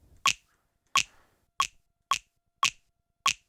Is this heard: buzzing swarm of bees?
no